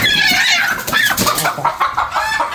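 A chicken clucks and squawks frantically up close as a reticulated python strikes and seizes it, loud agitated cries coming in rapid bursts.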